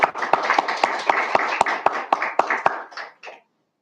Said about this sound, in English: he deserves a round of applause for doing a great job informing the students